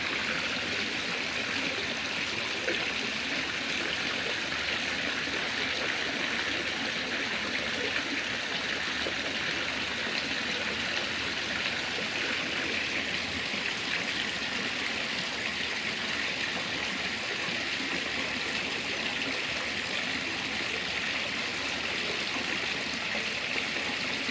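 Steady rushing and trickling water runs continuously without a break as an aquarium gravel vacuum siphons water through a tube, close and even in level.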